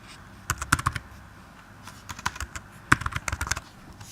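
Java code is typed on a computer keyboard in two quick bursts of clicky keystrokes, close and moderately loud, separated by a short pause, with no talk.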